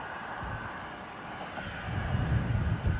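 A Malta Air airliner rolls down the runway at Dublin Airport, a low, fairly distant engine rumble that swells and grows louder through the second half, with no talking.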